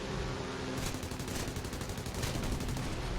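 Aircraft nose machine guns of an H-75 A-1 firing at ground targets in War Thunder, a dense continuous rattling stream of rapid fire, loud and steady for the whole stretch.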